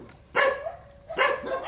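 Two sharp dog barks ring out at moderate distance on an outdoor walk, spaced about a second apart, each one loud and abrupt with a brief trailing yelp.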